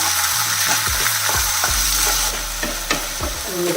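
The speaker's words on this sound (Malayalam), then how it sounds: "വഴട്ടാം" Onion and ground tomato paste sauté in a pan, sizzling loudly and steadily while a spoon stirs and scrapes repeatedly against the pan.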